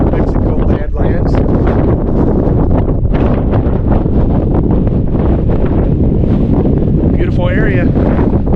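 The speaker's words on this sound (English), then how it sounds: "I sure don't like being on top of this rim with all this high wind coming" High wind roars across a canyon rim in the New Mexico Badlands, loud and constant with heavy gusts buffeting the microphone throughout.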